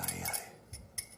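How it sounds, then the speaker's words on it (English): A wire whisk beats a mixture in a bowl, making a brief burst of light metallic clinks and scrapes against the bowl's sides. "I use a whisk to do this because it mixes better than a spoon"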